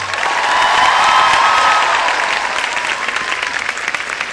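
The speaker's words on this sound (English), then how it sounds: "I think we can give another round of applause for that." Sustained applause from a college audience at an event with a visiting Chief Minister, a dense, loud clapping swell that peaks early and then gradually thins.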